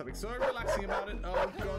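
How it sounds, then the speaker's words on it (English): A dog barks and yips in the horror video game Paradox Soul, sounding in a quick run of sharp barks that overlap a person talking. "that's a dog that's gonna try and eat me"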